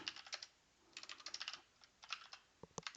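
Computer keyboard keys clicked in quick, crisp bursts of several presses with short pauses between, close and fairly quiet, as Ctrl C is pressed twice in org mode.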